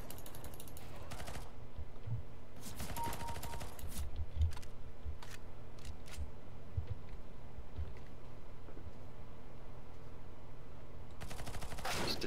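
Rapid gunfire from a round of the video game CS:GO, bursts of automatic shots crackling at the start and again near the end, with scattered single shots and clicks in between over a steady background hum.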